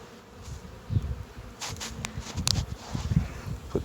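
Honeybees buzz around a hive while two colonies are merged, with a steady soft drone and individual bees zipping close by. Occasional rustling and handling sounds come from the box being worked.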